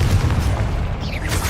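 A Confringo fire spell explodes in Hogwarts Legacy combat, a loud continuous blast with deep rumbling body and a hissing tail, close and sustained without talk.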